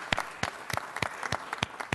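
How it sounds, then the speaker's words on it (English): Scattered applause at a city council meeting, a handful of separate, fairly close claps spaced out in an uneven rhythm with no talking over them. "Now that's worth a round of applause."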